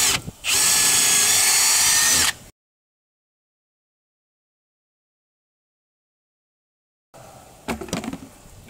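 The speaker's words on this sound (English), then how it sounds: "drill your pilot holes all the way through." A power drill bores pilot holes all the way through while installing a SlipSki JetDock, giving a close, loud, steady whine for about two seconds, then silence, then brief clattering handling noises.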